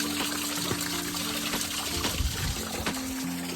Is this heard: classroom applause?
no